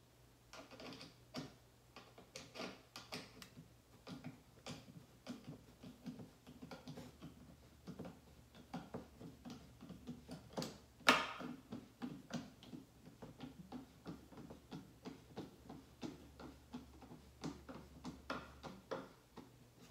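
A screw is driven into wood to assemble a farmhouse-style paint stir stick flower caddy, giving close, steady, repeated small clicks and creaks with one sharper snap midway, and no talking.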